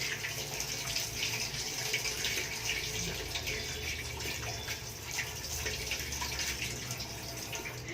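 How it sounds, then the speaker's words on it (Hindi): Cup washed with Vim liquid under a running kitchen tap: a steady close rush of water with faint splashing, no talk. "मैं तो विम लिक्विड से भी धो डालती हूँ।"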